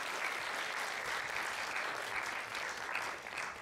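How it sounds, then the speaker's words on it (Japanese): Steady applause from a crowd at an indoor assembly in Japan's parliament building, a continuous patter of clapping that stays even throughout with no voices standing out. "大きな拍手をお願いいたします"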